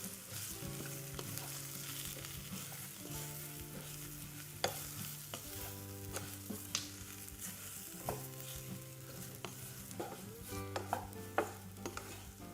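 Spiced jackfruit curry mixture, with salt and a couple of goraka pieces just added, is stirred in a pot with steady scraping and light sizzling throughout, punctuated by sharper clinks of the spoon against the pot, with no voices.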